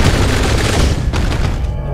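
Gunfire in Atomic Heart during a boss fight, heavy booming shots in quick succession, loud and close, fading slightly at the end.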